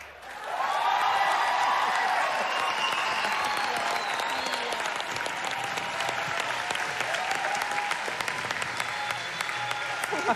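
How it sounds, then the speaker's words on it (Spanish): Sustained, dense audience applause fills a Got Talent Argentina studio after a performance, steady and loud from start to finish, with faint cheers mixed into the clapping. "¡Fuerte el aplauso para Facundo!"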